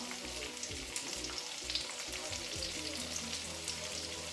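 Onions and tomatoes sauté in a hot pan while a vegetable sauté for ginisang sayote cooks, giving a steady, close sizzle with soft crackles and occasional stirring scrapes, and no voices.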